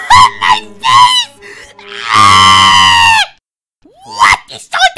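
A cartoon character lets out a long, loud, shrill scream lasting about a second, set between bursts of animated character voices speaking before and after.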